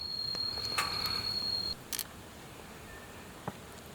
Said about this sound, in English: Okay, so put the wide angle lens on.